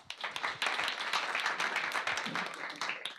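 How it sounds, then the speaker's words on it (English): Audience applause at a Python meetup talk, steady dense clapping from a crowd filling the whole stretch, fairly close and even in level. "Let's give a round of applause to Aaron."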